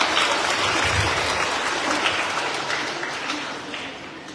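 Audience applause at a Buddhist dharma talk by a monk, a steady sustained patter of clapping filling the whole stretch at moderate level, no voice over it.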